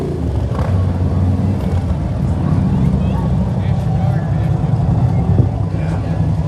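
American Legion Riders motorcycles rumble past in a small-town anniversary parade, a dense low engine drone with revs swelling through it, heard close while a voice talks over the noise.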